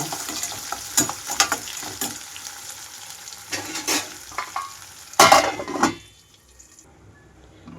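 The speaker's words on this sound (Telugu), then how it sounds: "కట్ చేసి పెట్టుకున్న ఉల్లిపాయలు పచ్చిమిరపకాయలు వేసి" Chopped onions and green chillies drop into hot tempering for a taro (arbi) pulusu curry. They hiss and sizzle in a pan with stirring scrapes, and a louder burst of frying comes before everything goes quiet.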